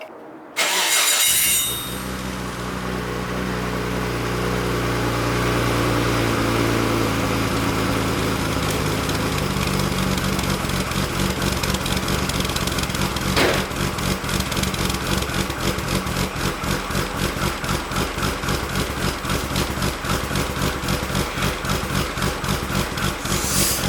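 A Nissan R32 GTR with a newly installed, fairly quiet exhaust cranks and fires up, then settles into a steady idle with a choppy cam lope and a few blips of revving, close and alone with no talking.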